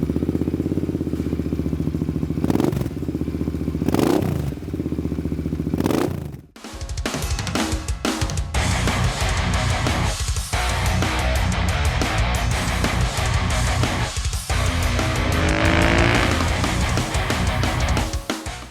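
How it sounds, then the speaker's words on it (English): A Royal Enfield Continental GT R650 race motorcycle on a racetrack: a few loud throttle blips at first, then a sustained, rumbling high-revving exhaust roar that rises and falls as the bike accelerates and shifts. "the loud throttling and rumbling exhaust note that has been reverberating beautifully across the racetrack"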